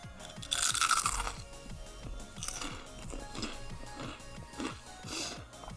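Someone chews a crunchy Chitron snack close up, giving repeated sharp crunches in an uneven rhythm, with a louder burst of crackling near the start and no talk.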